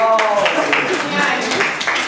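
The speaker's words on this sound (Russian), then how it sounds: "Аплодисменты, пожалуйста." Applause requested during a Russian-language advertisement for a USB flash drive, sounding as a dense, even wash of clapping that runs the whole time beneath someone speaking loudly over it.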